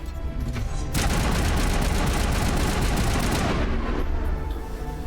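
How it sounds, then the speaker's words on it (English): Sustained rapid gunfire in the Mass Effect Legendary Edition video game, loud and continuous for about four seconds against the Geth after a brief quieter lead-in, then easing slightly at the end. "I got a gun and I'm ready to start shooting."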